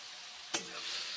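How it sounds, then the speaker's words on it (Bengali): Ridge gourd frying in a pan of hot oil with nigella seeds, turmeric and salt, giving a steady close sizzle with one brief stirring clatter midway. "ঝিঙ্গেগুলো এখন ভেজে নিচ্ছি"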